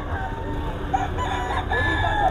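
Roosters crowing at a poultry sale in the Philippines where birds are offered for sale, several overlapping crows rising above a busy background of murmuring voices and clucking.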